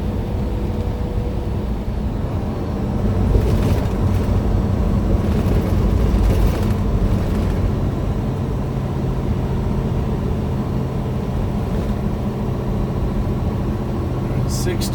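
A car engine drones steadily at full throttle while climbing a long, steep interstate hill, with a constant low rumble and road noise throughout and a person talking over it at times.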